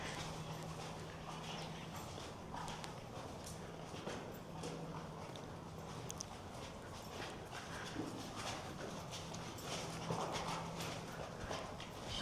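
Hooves of a bareback-ridden horse, just returned to work after time off, clip-clop in a steady rhythm on the ground amid faint outdoor background noise.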